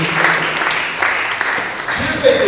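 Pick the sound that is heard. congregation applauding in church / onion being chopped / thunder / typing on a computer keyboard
congregation applauding in church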